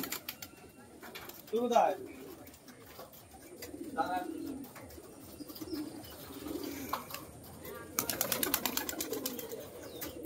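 Pigeons coo from a large flock of high-flyer birds, low rolling calls spaced every couple of seconds, with light rustling and clicking building near the end and a hint of distant voices.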